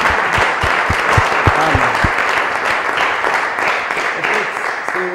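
Audience applause fills a church service: a loud, sustained wash of many hands clapping, steady throughout, with a voice briefly calling out over it.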